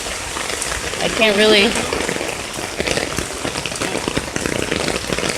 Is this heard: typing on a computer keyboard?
no